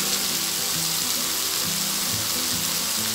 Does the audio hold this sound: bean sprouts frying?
yes